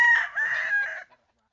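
A rooster crows loudly and close by in one drawn-out call lasting about a second, then silence.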